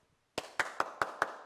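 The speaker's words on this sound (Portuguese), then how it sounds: "Palmas pra você, cara." Five sharp, evenly spaced hand claps ring out alone after a moment of silence, a slow sarcastic round of applause from one person.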